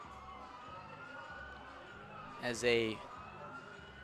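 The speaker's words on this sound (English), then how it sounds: "police car drives by the street beyond right field" A police car siren passes on a street beyond the right field at a nighttime baseball game in Kokomo, a brief rising wail from a distance over crowd ambience, with a voice speaking briefly.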